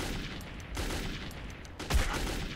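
Gunfire in the first-person shooter Metro 2033: a dense rattle of shots with two or three louder bursts against a steady noisy game background.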